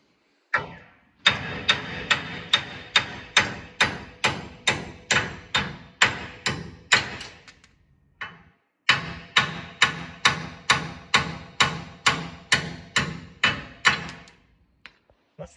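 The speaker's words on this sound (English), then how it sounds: "you just knock them out and knock new ones in from behind" Hammer knocking damaged wheel studs out of a trailer hub, two long runs of sharp metallic blows at a steady rhythm, each ringing briefly, separated by a short pause.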